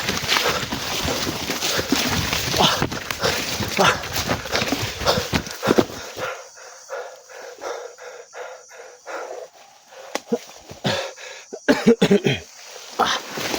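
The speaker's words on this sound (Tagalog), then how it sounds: "Masyado akong inuubo ng mga tol." Repeated harsh coughing fits, close and loud, broken by short pauses and throat clearing, with a voice speaking between them.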